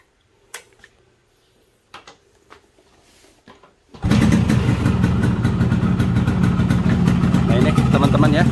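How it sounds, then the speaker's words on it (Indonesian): A Yamaha RX King motorcycle's two-stroke engine fires up after a few faint clicks and then runs loud and close with a rapid, buzzy, crackling idle. "suara motornya seperti ini."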